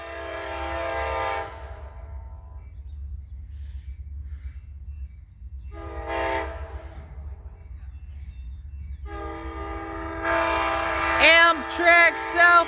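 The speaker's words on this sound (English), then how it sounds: "Amtrak Southwest Cheif" Amtrak Southwest Chief passenger train on the Marceline Subdivision, sounding its horn in several long blasts over a steady low rumble of the passing train, with louder overlapping horn notes at the end.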